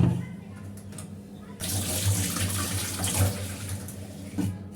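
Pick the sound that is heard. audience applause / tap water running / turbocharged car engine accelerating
tap water running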